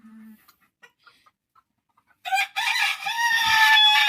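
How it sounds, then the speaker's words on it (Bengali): Fawmi layer hens and roosters on a Bangladeshi poultry farm burst into loud, close clucking and crowing after a few quiet seconds, the noisy flock continuing steadily to the end. "মুরগির চিৎকারে কথা বলা যায় না"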